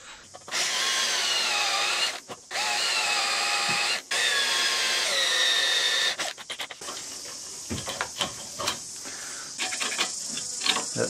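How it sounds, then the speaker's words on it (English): A power drill whines in several sustained bursts with brief pauses, drilling holes in a sailboat mast, then gives way to scattered knocks and scraping; close by, no voices. "So I've got to drill new holes for these stays as well."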